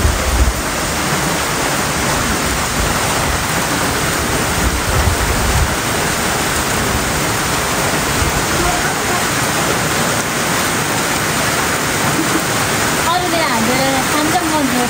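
Rain falls outdoors as a steady, dense wash of noise, with a faint voice briefly under it near the end.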